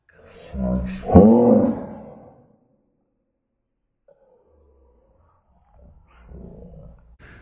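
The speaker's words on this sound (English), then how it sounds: "Someone's got a dog in their room." A dog in a room gives a single loud, growling bark close by. A long near-silence follows, and then faint low rumbles.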